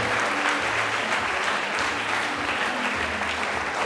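Steady, full applause from the audience at a high school maths league awards ceremony as a student comes up to receive a medal, continuous crowd clapping lasting several seconds.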